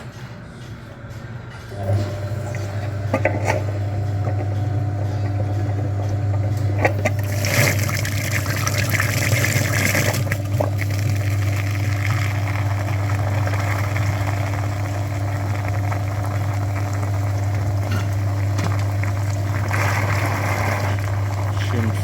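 A coolant flushing machine on a Kia Magentis pumps antifreeze through the heater radiator, a steady low motor drone with gurgling, trickling liquid running continuously after it switches on.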